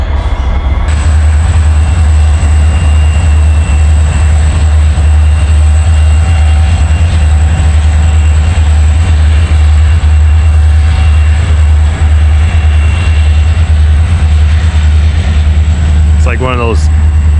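A train rolls past close to a winter campsite at Minneopa State Park in Minnesota, a loud steady rumble of rail cars that carries on for the whole stretch, with a brief squeal near the end.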